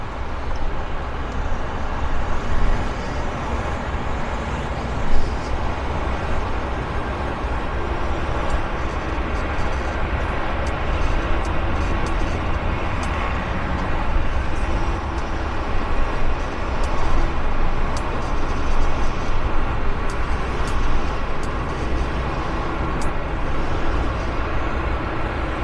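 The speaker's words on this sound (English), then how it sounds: "the Air Canada is now taxiing" An Air Canada Boeing Dreamliner taxiing at Vancouver Airport gives a continuous broad jet roar with a low rumble, steady and fairly distant, with faint ticking on top.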